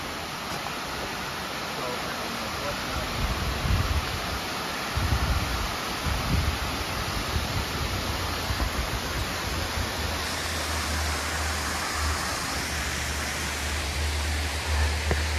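A creek flows steadily beside a stone staircase path near waterfalls, its broadband rushing wash continuous and close, with faint low rumbling underneath.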